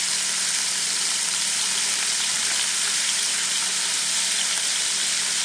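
Chicken pieces frying in fat in a pan for a stir fry, giving a loud, steady, dense sizzle that holds evenly throughout with no talking.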